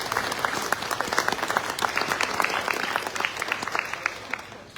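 Audience applause at a school students-of-the-month event, a thick, steady stretch of crowd clapping with individual claps popping out of the mix, fairly loud and continuous.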